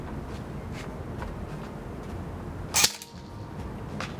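An airsoft gun fitted with a Magic Box Miracle Barrel fires .28 gram BBs on a range, giving one sharp, short crack near the end against steady outdoor background noise.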